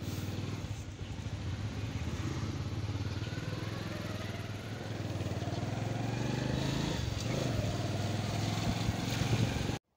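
A motorcycle riding through a busy street: a steady, close engine drone mixed with rushing wind noise, rising slightly in level toward the end.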